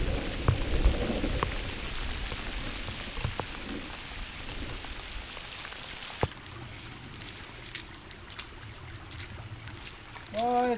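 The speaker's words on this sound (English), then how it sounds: "It's been raining like the last 10 days or so, pretty regular." Spring rain falls steadily outdoors near Hamburger Lake, a continuous broadband hiss of drops on surfaces with scattered sharper taps and drips, moderately loud, with occasional brief clicks and faint rustling and no talk.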